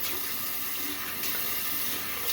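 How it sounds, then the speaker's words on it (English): Water runs steadily from a tap in a continuous broadband rush, close and even, with no voices. "Please excuse the water."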